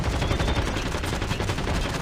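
RPD machine gun firing in Call of Duty Mobile's Undead Siege zombies mode, a dense, continuous burst of rapid shots lasting about two seconds, loud and close with no pauses.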